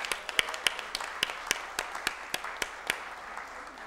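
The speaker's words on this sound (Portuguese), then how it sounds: "uma forte salva de palmas" At a formal ceremonial session of a chaplaincy college, a modest group claps in a scattered way. Distinct, sharp hand claps ring out close together over a soft background wash for a few seconds.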